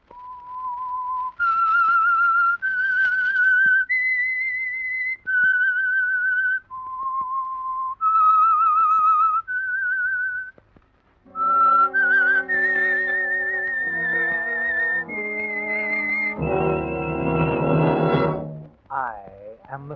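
A lone whistled melody of clear, sustained notes, the theme signal of the 1948 radio drama The Whistler, followed by a brief orchestral swell and a sweeping flourish at the end.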